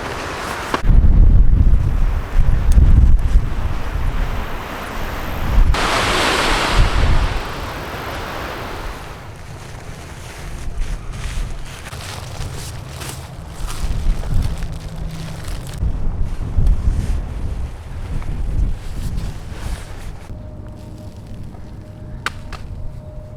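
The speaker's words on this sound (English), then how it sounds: "it's windy as fuck, but we found a little nook." Strong gusty wind in the Mojave desert, buffeting loudly with roaring surges and microphone rumble that rise and ease over time, with quieter stretches between gusts and no voices.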